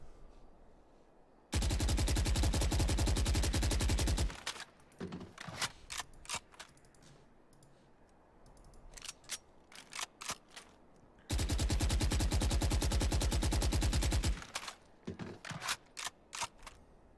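Rifle in the video game Valorant firing two long full-auto bursts, each about three seconds of rapid, loud, evenly spaced shots, separated by scattered single clicks and brief mechanical sounds.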